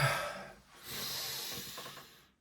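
Someone blows their nose hard up close, a long noisy blast, a short pause, then a second drawn-out honk that tapers off.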